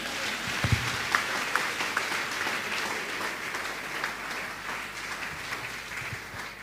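A church congregation applauds to acclaim God, steady sustained clapping from many hands filling the room at moderate loudness, with a few louder individual claps standing out.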